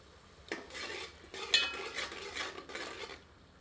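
Garlic paste and broken dried red chillies fry over medium heat in a pan, with a utensil scraping and stirring in several short bursts over a soft, steady sizzle; no voices.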